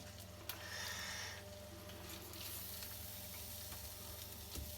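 King prawns sizzle gently in a hot pan, a soft, continuous frying hiss with faint crackles and an occasional small clatter, fairly quiet throughout.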